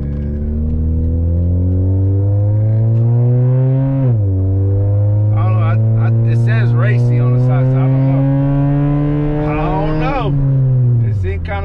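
Loud engine of a Chevrolet Cavalier LS Sport driving, a steady droning exhaust note that rises and falls in pitch with shifts, close and continuous while a voice talks faintly over it.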